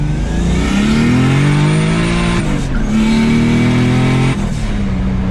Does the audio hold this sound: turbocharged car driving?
yes